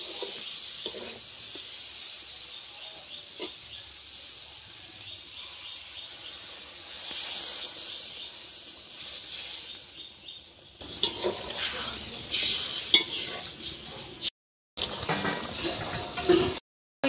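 Koi fish being stirred in a hot pan, a low steady sizzle and scraping for several seconds, then water poured in, setting off a sudden louder burst of hissing and bubbling steam.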